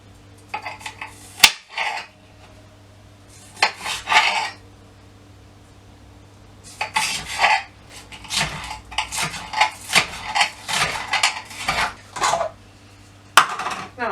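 A kitchen knife chops spring onions on a cutting board in scattered bursts of quick, crisp taps with pauses between them, fairly close and with no talking.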